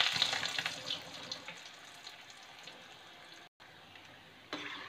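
Mutede (mantode) fritters frying in a pan of hot oil, a steady soft sizzle and bubbling that stays fairly quiet, with a brief dropout and a few louder crackles near the end.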